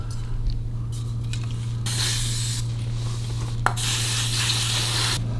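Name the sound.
cleaning Harley WLA motorcycle parts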